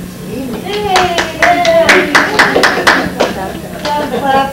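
Clapping from a small audience at a community group meeting rises and fades in uneven bursts, with voices and a child's chatter mixed underneath the hand claps.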